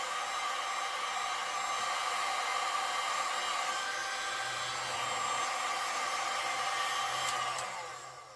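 A heat gun blows over a freshly poured resin nightlight, producing a steady, close, airy roar with a faint whine that holds level for about eight seconds before tapering off as it switches off; no one speaks.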